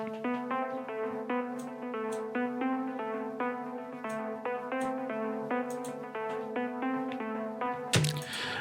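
Synth pluck from the Spire plugin in an Afro House track in FL Studio, plays a rapid repeating melodic pattern of short bright notes at moderate level, ending with a noisy burst near the close.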